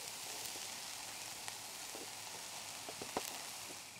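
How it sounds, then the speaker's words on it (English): A quiet, steady sizzle of onion and vegetables stir-frying in a pan, with occasional soft clicks and stirring scrapes. "I'm going to be stir frying the vegetables to go in there."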